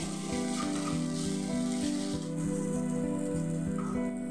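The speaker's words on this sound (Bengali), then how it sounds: "কাঁচা গন্ধটা চলে যাওয়া পর্যন্ত মিডিয়াম ফ্লেমে আমি এগুলোকে ভেজে নিচ্ছি।" Onions with garlic and ginger paste fry on a medium flame, giving a steady sizzle with a faint, regular rhythmic tapping underneath.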